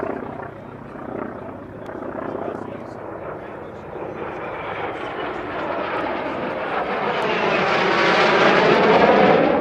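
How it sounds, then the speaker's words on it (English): A T-33 jet aircraft flies past at an air show, a broad roaring rush that swells louder and nearer toward the end, with crowd or commentary voices mixed underneath. "Next aircraft coming in, you're right."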